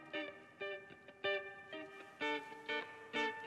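A heavily distorted, saturated tone pulses in short choppy bursts, gritty and clipped by a Soundtoys Decapitator, with a smeared, clipping spring reverb tail between hits.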